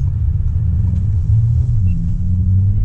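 A 2019 Bentley Continental GT coupe engine in sport mode, a loud low steady rumble heard from inside the car, constant throughout without talk.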